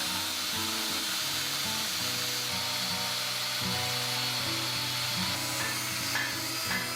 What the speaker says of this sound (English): I'm going to drill a hole all the way through the side